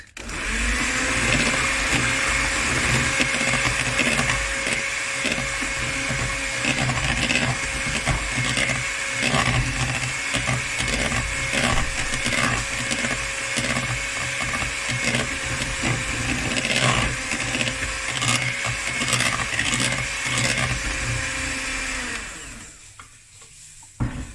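Electric mixer whisking orange cake batter, a loud steady whir running continuously for over twenty seconds with slight shifts in pitch as the beaters move, then cutting off abruptly near the end.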